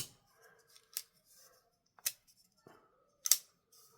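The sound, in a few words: Ozark Trail glow-in-the-dark folding knife blade action being opened and closed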